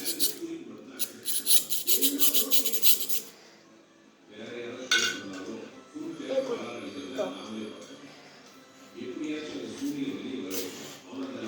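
Two silver drinking straws clink and rattle against a glass in a few bright metallic bursts, with a person talking over and between the sounds.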